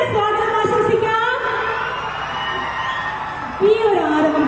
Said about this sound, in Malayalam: ഈ ഒരു ആരവം പോരെ കേട്ടോ.